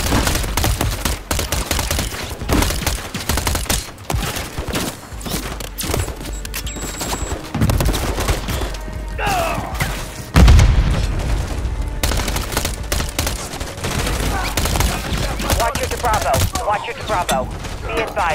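Dense, sustained gunfire from Call of Duty: Modern Warfare III fills the whole stretch, with rapid overlapping shots and heavy booms in a loud, continuous barrage, and a voice now and then beneath the shooting.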